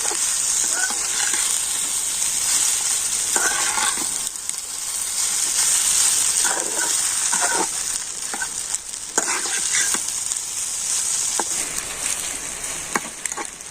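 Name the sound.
bread pieces being stir-fried in a pan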